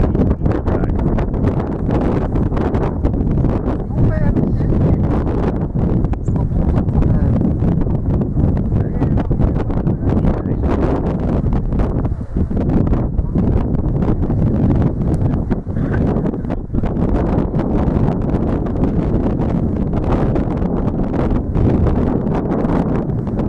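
Strong wind roars steadily throughout near a wildfire with old trees burning, buffeting the microphone loudly and continuously with gusty rumbling and rustling.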